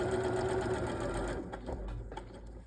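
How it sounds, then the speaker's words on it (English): Sewing machine stitching a seam along a quilt block, a close, steady mechanical whir of rapid needle strokes that continues throughout, then slightly slows and eases toward the end. "So with my needle down I'm going to stitch all the way along."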